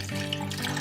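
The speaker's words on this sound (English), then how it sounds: "So we're just gonna add the water." Water pours steadily from a tap into a pot of simmering Mexican rice, a continuous close rushing splash that holds for under a second with no talking.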